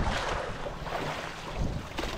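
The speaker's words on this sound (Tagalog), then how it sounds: "Palakas ng hangin." Strong wind buffets the microphone on a small boat at sea, a loud, rough roar with gusts rising and falling over the rush of water for a couple of seconds.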